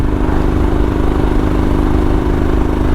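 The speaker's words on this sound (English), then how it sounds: "Okay, the hill is starting now, just accelerating." A Royal Enfield Himalayan motorcycle engine drones loud and steady while accelerating uphill in sixth gear at about 3,000 rpm, a constant close-up mechanical hum with no change in pitch.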